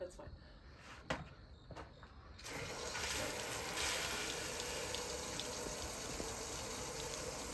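Water gushes steadily from the two opened valves of an outdoor shower, a continuous broadband rush starting after a couple of seconds of quieter ambience with faint drips and insects.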